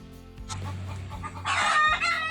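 Chickens cluck and squawk nearby, with a louder agitated burst toward the end over a low background hum.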